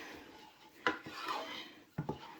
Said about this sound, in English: I'll continue stirring like this until everything is well dissolved